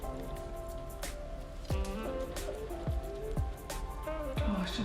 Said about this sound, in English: It's just started to rain as well.